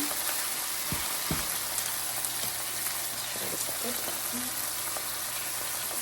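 Steak sears in a hot pan, giving a steady, fairly faint hiss with a few brief sharp crackles and clicks early on.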